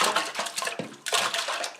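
Water is poured into a cooking pot while making sweet corn liquor, a close, splashy gush that briefly pauses and then resumes, with no talking.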